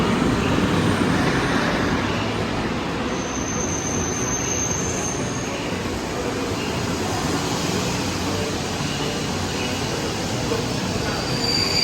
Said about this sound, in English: Here comes the train now.